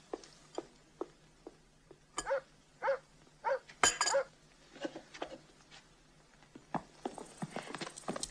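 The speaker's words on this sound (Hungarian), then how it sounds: "Befogták a lovakat" Hooves of harnessed horses waiting with a carriage, a scattered run of sharp clip-clop strikes near and moderately loud, with a dog barking among them.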